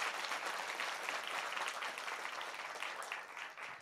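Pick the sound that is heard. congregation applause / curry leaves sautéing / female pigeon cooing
congregation applause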